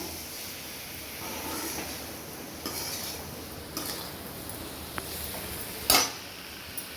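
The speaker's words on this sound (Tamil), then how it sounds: "இந்த மசாலாவும் இந்த கத்திரிக்காயும் அப்படியே நல்லா இந்த எண்ணெயில் நல்லா வெந்து வரணும்" Eggplant and masala cook in oil in a pan, giving a faint, steady frying hiss with occasional light clinks and scrapes of a utensil.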